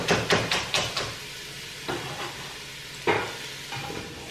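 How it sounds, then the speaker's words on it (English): Onion, celery and carrot fried in a pan for a ragu, giving a few sharp stirring and scraping knocks at the start, then sparse clatters over a low, steady sizzle close by. "I'm just frying them off a little bit just to get the flavour out and get them going."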